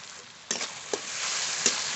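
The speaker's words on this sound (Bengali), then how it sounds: "একটু জল দিয়ে ভালো করে মশলা কষিয়ে নেব।" Spices sizzle in oil with chopped tomato, green chili, salt and turmeric in a pan, a constant close hiss broken by a few sharp stirring scrapes.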